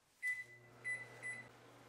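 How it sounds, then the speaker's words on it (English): A microwave oven hums steadily while heating a glass bottle filled with water, a low drone with a faint tonal whine that swells in three short bursts, quiet overall. "I fill it up with water and microwave for 4 to 5 minutes"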